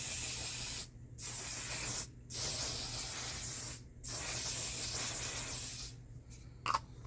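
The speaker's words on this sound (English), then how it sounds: "I am going to do the One Size Until Dawn Mattifying Waterproof Setting Spray" Bursts of One Size Until Dawn Mattifying Waterproof Setting Spray misted from a pump bottle: four long, steady hissing sprays separated by short pauses, then a few quick shorter spritzes, close and fairly quiet over a low background hum.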